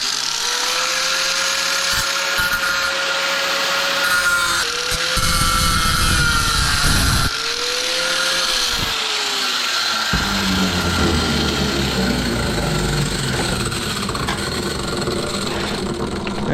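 An angle grinder fitted with a big 6-inch disc and no guard cuts into scrap battery chargers; its motor whine rises and sags in pitch across several passes, with harsh gritty bursts of cutting noise in between, close and loud, no voices.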